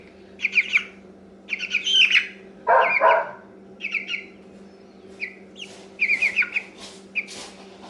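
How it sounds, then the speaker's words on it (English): Meat bird chicks in a garage give repeated high, bright chirps and peeps in short bursts, close by over a steady low electrical hum, with no talking. "These are meat birds."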